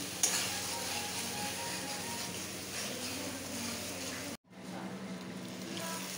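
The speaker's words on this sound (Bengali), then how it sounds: "এবার দিয়ে দেবো মাংসটা" Mutton pieces going into a pan of frying spice paste in a home kitchen, a steady close sizzle with stirring and pot scrapes that stops briefly, then resumes.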